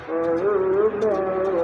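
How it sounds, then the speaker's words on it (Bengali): A pair of pigeons coo softly at a home, one low, steady, rolling call heard close and on its own. "কবুতরগুলো আইসা পড়লো"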